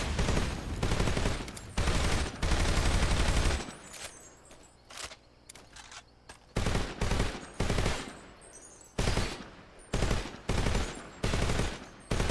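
An AK-47 in Metal Gear Solid Delta fires loud automatic bursts and single shots, dense chattering volleys at first and then separated bursts with short gaps between them.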